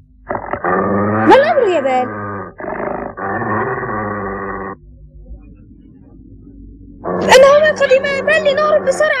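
A dog in a children's cartoon growls and barks in loud, harsh bursts, with rising snarls and a short pause of low rumbling before another fierce outburst.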